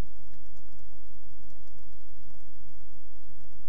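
Someone types a name on a computer keyboard, a quick run of close, light key clicks over a steady low hum, with no talking.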